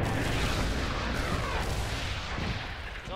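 A grenade explodes in a competitive video game match, a loud, rumbling boom that fills the clip and slowly rolls off, with no talk over it.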